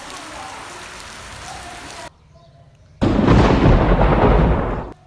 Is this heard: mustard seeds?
no